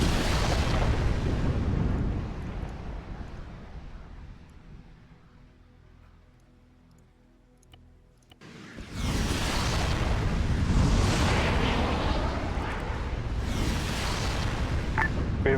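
Heavy explosions and weapons fire in Arma 3 during an assault on an anti-aircraft network: a roaring blast fades out, then a second series of loud booming detonations follows.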